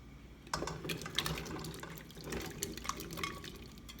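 Water is poured into a pot of washed potatoes ready for boiling, giving a faint splashing trickle that starts after a pause and carries on with small bursts and drips.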